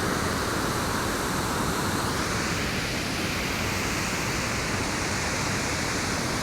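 Steady, dense rushing water roars without a break, a broad unchanging wash of sound like a waterfall heard from nearby, at Indian Leap in Norwich, Connecticut.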